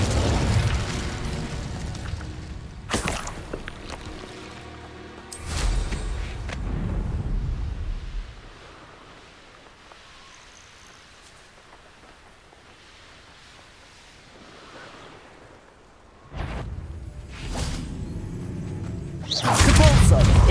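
Depulso and Incendio spells cast in Hogwarts Legacy: loud whooshing bursts and booming blasts come in separate clusters, with a quieter lull in the middle and a strong explosion at the end. A voice shouts the spell names over them.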